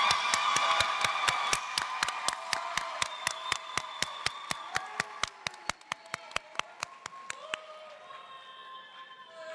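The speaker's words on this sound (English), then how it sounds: "Please give them a round of applause." Sustained audience applause for graduating students at a high school science academy commencement, dense sharp claps at a steady quick rhythm that thin out and fade toward the end, with a faint murmur underneath.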